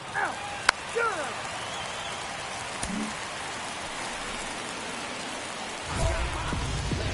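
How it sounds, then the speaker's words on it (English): Steady rain hisses across a ballpark during an MLB The Show 24 Road to the Show game, a constant broadband wash with a few brief louder bursts and a low rumble near the end. "This rain is not letting up."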